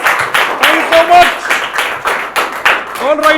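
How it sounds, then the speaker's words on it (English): Audience applause at a live stage show, loud, close and bursty, with a few distinct claps and brief voices over it. "And Ravi, a huge round of applause."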